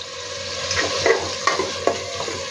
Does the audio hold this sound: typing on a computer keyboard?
no